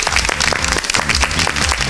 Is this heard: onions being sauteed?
no